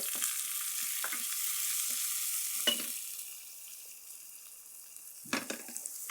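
Onions are added to hot oil with lightly crackled cumin seeds and fry with a steady bright hiss, broken by a few scraping stirs and crackling bursts, close and moderately loud.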